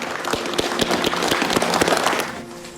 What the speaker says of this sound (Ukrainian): Аплодуй, посміхайся і аплодуй